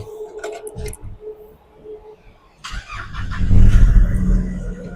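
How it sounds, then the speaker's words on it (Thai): A Nissan Navara 2.5 Calibre pickup's engine fires up after a moment of quiet, rising into a loud, close rumble that settles into a steady running sound with no talking. "เดี๋ยวผมสตาร์ทเครื่องให้ฟังเลยดีกว่านะครับ"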